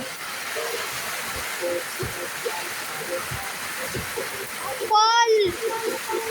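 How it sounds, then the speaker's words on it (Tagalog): Steady, dense hiss of heavy rain pouring throughout, with a voice calling out over it near the end. "Mas malakas pa ang ulan kaysa sa boses ko!"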